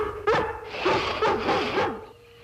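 A dog named Lassie gives several close, sharp barks, with a whimpering, yelping quality between them. The barks come in a quick irregular burst and then stop.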